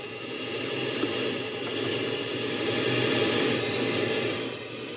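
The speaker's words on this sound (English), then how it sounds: "So there you have it, our ocean wave." Synthesized ocean wave from an Ensoniq EPS 16 Plus sampler: a steady wash of filtered noise swelling and easing gently over several seconds, with a few faint high clicks, no voices.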